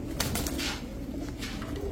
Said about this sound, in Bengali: কাঁচ ভাঙা চোখের একটা মাদি কবুতর